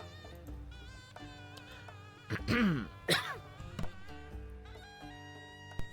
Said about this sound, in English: didn't mean to cough into the microphone.